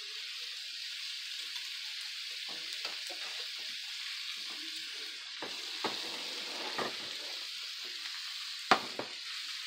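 A ribeye steak frying in a pan, seasoned with salt and black pepper, giving a steady close hiss of sizzling with a few soft crackles and pops throughout and no talking.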